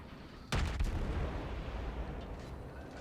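Heavy naval gun salvo from the Shchors cruiser firing high-explosive shells in a naval combat video game: one loud, sharp boom near the start followed by a long rumbling echo that slowly fades.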